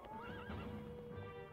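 Horses in the video game Stronghold Definitive Edition, a close whinny rising and falling over a continuous dull rumble of movement, with no talk.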